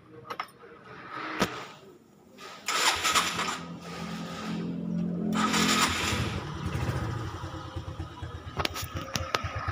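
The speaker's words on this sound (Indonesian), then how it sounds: "Kita dengerin suara mesin ya." A Suzuki Skywave 125 scooter engine cranks and starts, then idles with a steady rumble that swells slightly, heard up close amid some clicks and handling noise.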